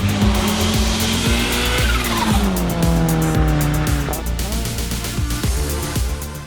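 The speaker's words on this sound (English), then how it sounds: "So what's it like driving a crazy turbocharged S2000? Let's go for a drive and find out." A turbocharged Honda S2000 driven hard: engine revving and shifting through gears with rising and falling pitch, accompanied by loud continuous tire squeal, close and without speech.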